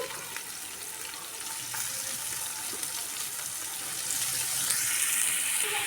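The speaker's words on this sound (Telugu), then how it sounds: "ఇప్పుడు ఇదే కడాయిలో ఇంకొంచెం ఆయిల్ వేసేసి ఆనియన్స్ వేసేసుకొని లో ఫ్లేమ్లో ఆనియన్స్ని ఫ్రై చేసేసుకోవాలి" Onions frying in oil in a kadai over a low flame, a soft, steady sizzle and crackle that carries on for several seconds, faint and even, with no voices.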